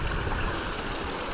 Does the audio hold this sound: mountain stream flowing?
yes